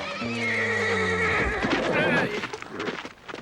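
Horses whinny loudly and close at hand, then hooves clip-clop, with someone shouting over them in a Western stagecoach scene.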